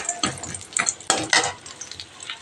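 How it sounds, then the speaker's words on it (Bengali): Lentil dumplings (bori) frying in a pan to turn reddish, a soft steady sizzle broken by irregular stirring scrapes close by, with no one talking. "বড়িটা একটু লাল করে ভেজে নিচ্ছি"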